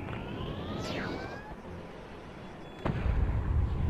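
Meteor strike explosions in the video game Destroy All Humans 2: rumbling blasts and crackling bursts with whistling descending streaks, then a sharp louder impact near the end, all against dense game noise.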